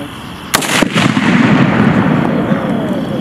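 A backblast-producing military weapon fires once during US war games, a sharp loud blast up close followed by a long rumbling roar and ringing echo.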